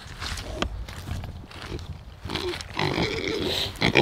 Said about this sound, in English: How you doing, pigs? What are you up to?